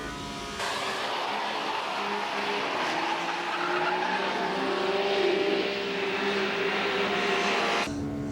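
660cc kei cars race on a test track with brakes locking, producing a sustained, harsh tire squeal and skid over engine noise lasting several seconds, loud and close, ending abruptly.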